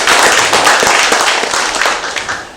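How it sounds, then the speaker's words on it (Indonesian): Audience at an Indonesian political party consolidation meeting for regent and vice-regent candidates claps hands in a loud, dense, continuous burst of applause sustained throughout, with no voice over it. "tepuk tangan teman-teman semua"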